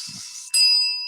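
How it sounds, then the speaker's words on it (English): A single clear bell strike rings out loud and close, then sustains and slowly fades, after a brief whooshing tone. "So we get 3 bells to put that to rest."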